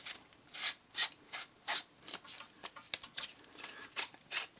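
Star Wars Galaxy's Edge custom lightsaber hilt being opened by hand: a quick run of close scraping, rubbing and clicking handling noises, irregular bursts with no talking.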